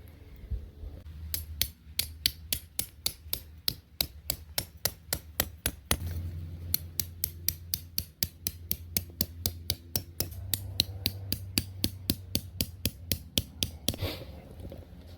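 Heavy-duty tent stakes hammered into hard sand on a Florida beach campsite at Mosquito Lagoon: a long, steady series of sharp, evenly spaced metallic strikes, close and loud, with a brief pause midway before the blows continue.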